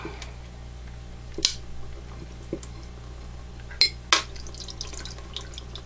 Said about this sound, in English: Then you pour some cold water on it.